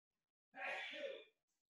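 A single short sneeze, close and sharp, from a participant in a soccer coaching webinar, isolated against silence.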